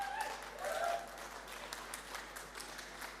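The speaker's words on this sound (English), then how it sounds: "can we give Andre a massive round of applause from Skyscanner, Head of Brand and Creative" Scattered, fairly faint applause from an event audience greeting a guest, Skyscanner's Head of Brand and Creative, a thin wash of clapping that swells briefly near the start then thins out.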